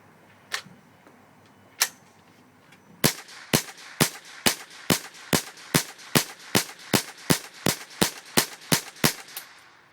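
Shots from a Puma Wildcat rifle at the range: two isolated cracks, then a rapid, evenly spaced string of about fifteen sharp, loud reports in quick succession.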